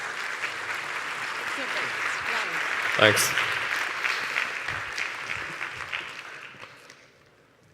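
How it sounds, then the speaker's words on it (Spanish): Audience applause at a large conference hall event, steady clapping from a crowd with a brief spoken thanks partway through, fading out near the end. "Un aplauso, por favor, para Mark, que salga ahí."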